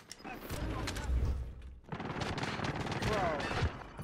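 A MAC-10 submachine gun fires in Warzone in rapid, dense bursts of loud gunfire that nearly fill the clip, with a brief lull partway through and voices faintly present in the game mix.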